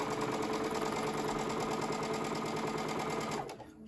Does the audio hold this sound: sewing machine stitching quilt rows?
yes